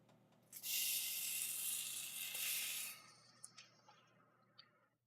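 Meat searing in a hot pan gives a loud burst of sizzling hiss that holds for a couple of seconds, then eases into quieter frying with a few sharp pops and crackles.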